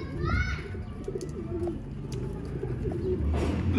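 Pigeons coo softly at close range over a low background murmur, with a few short chirps and calls in between.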